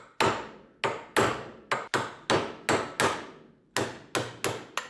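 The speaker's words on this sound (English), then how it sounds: "So now we take a chisel, put it on the corner and give it a good old smack." A hammer strikes a chisel set on the corner of a BMW F30 car part, about a dozen sharp metallic smacks in an uneven rhythm, loud and close, with no talking.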